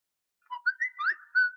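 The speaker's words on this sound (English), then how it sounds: "oh great, my phone just gone off" A mobile phone ringtone goes off with a short run of bright, whistle-like electronic chirps in a quick, uneven melody, sounding alone over a silent background.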